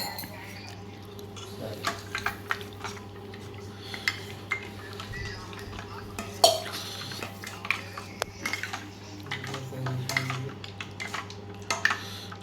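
A spoon clinks against a glass or pot while a summer lassi drink is stirred and mixed, with scattered light taps over a low steady hum.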